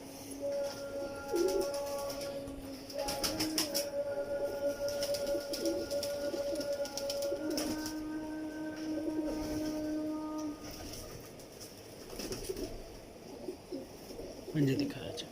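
Heera Lal pigeons cooing in repeated soft, low calls close by, with someone talking over them through much of the scene.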